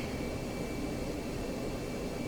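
An F-15C taxiing in the DCS flight simulator gives a steady, continuous jet engine roar with a constant high whine, alone and fairly loud throughout.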